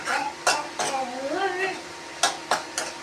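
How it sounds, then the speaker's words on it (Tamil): Potatoes are being sautéed in oil over a low flame, with several sharp metallic clinks of a spoon stirring in the pan and a faint sizzle beneath, while a voice briefly murmurs. "எண்ணெயோட வதக்கிட்டு இருக்கேன்"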